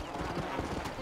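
Horse hooves clip-clop steadily in the zombie-western game Red Dead Redemption: Undead Nightmare on Xbox One, a quick rhythmic patter of close, moderately loud footfalls running continuously with no other sound over it.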